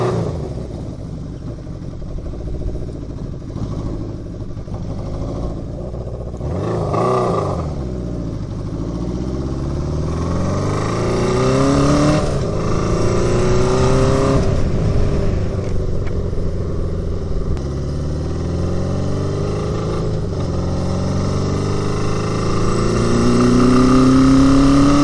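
A Honda CB750 cafe racer motorcycle engine runs on its first cold start after sitting all winter. The loud, steady rumble rises and falls as the revs swing up and down.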